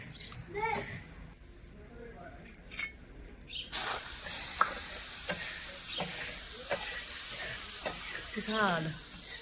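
Chickpeas roasting in a pan give off a crackling sizzle and scraping stir strokes, with a quieter start and then louder steady frying noise, while someone talks over it.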